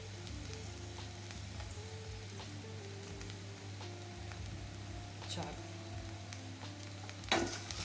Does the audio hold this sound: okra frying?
yes